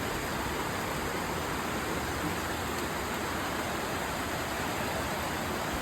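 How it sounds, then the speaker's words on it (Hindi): Steady broadband rush of water pouring at a waterfall, loud and continuous throughout, with no voices. "तो देखो कैसा पानी निकाल रहा है।"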